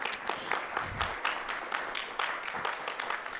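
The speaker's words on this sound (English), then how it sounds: "give him a clap" A small audience gives the team captain a brief round of applause, with scattered, uneven claps heard fairly close and moderately quiet, easing off toward the end.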